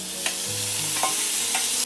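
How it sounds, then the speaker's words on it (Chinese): Stir-frying with oil in a wok at home during quarantine, a young boy cooking: a steady sizzle of hot oil with a few sharp scrapes and clanks of the spatula against the pan, close and clear, no talking. "放点油在一起，辣炒"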